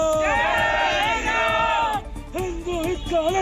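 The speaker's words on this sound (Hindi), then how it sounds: "कैफे के सामने ही सैकड़ों की भीड़ जमा थी और लोगों ने जमकर नारेबाजी की।" Crowd of Bajrang Dal workers shouting slogans outside a cafe, loud overlapping voices chanting in unison with rhythmic rises, a brief lull, then renewed yelling.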